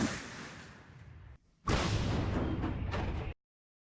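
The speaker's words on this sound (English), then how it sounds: "Shooting off cannons." Artillery cannons fire in two loud, sustained booming blasts separated by a short gap, each rolling out broadly before cutting off abruptly.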